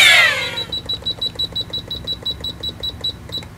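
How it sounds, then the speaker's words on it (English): A kitchen oven timer is set while broiling salmon, giving a rapid run of regular electronic beeps, about three per second, close and clear after a brief rustle at the start. "Then, set the timer."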